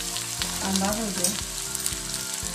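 Chopped onion frying on a low flame in oil with bay leaf, cumin, ginger and garlic, a steady close sizzle with soft stirring bumps throughout.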